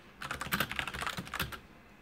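Rapid, light clicking of keys on a computer keyboard while a line of C code is entered, a close, quiet burst of quick taps lasting about a second and a half.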